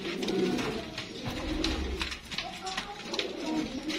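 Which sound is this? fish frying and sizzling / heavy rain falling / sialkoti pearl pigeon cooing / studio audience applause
sialkoti pearl pigeon cooing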